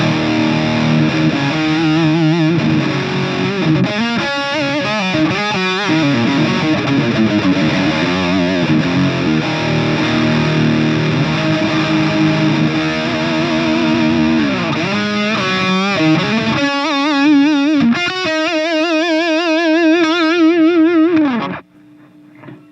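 Electric guitar runs through a Majik Box Rocket Fuel overdrive with its bass shift adjusted, playing loud, sustained distorted chords and bends throughout, ending with a long held note that stops suddenly.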